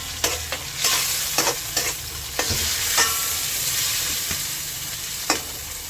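Onions and tomatoes sauté in a hot pan for a milkfish dish, a steady bright sizzle broken by repeated sharp scrapes and knocks of stirring, close and fairly loud with no talking.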